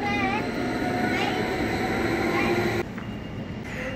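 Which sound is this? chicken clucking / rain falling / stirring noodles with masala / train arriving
train arriving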